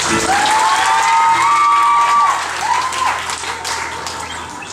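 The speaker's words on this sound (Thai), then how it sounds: "ขอเสียงปรบมือด้วยครับ" Audience applause at a relaxed live music show, a crowd clapping under a few whistled or sung tones, loud at first and then easing off slightly toward the end.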